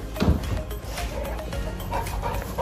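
A female Bullmastiff vocalizing nearby, with short yips and whimpering sounds over a noisy indoor background.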